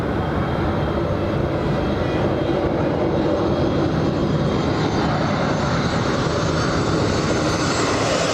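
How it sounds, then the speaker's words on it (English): A Boeing 757 airliner departs Los Angeles International Airport with a continuous broad engine roar, loud and steady throughout. "There goes the 75 flying to the Motor City."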